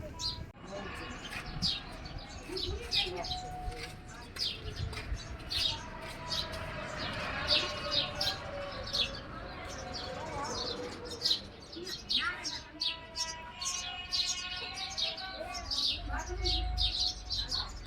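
Many sparrows chirp and tweet busily in short, overlapping bursts, with faint background voices and ambient noise beneath.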